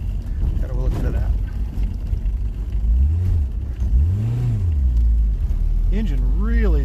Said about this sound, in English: Engine really zips up there.